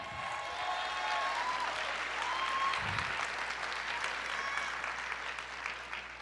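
Church congregation applauds continuously through a sermon, a broad sustained wash of clapping with a faint low hum and a brief low thump partway through, tapering slightly at the end.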